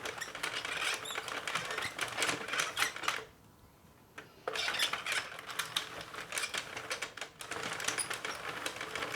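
A circular knitting machine runs with a rapid, dense clatter of clicking needles, close and continuous apart from a brief stop midway before cranking resumes.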